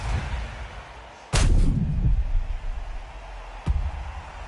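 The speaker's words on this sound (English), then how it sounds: "A shot from the guns took him out." A single loud gunshot crack rings out in a replay during a televised show, its tail fading over a couple of seconds, followed later by a fainter second shot against steady background noise.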